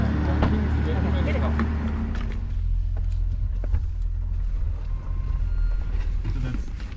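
A Jeep Gladiator truck's engine starts and settles into a steady low rumbling idle, heard close and continuous throughout, with people talking over it.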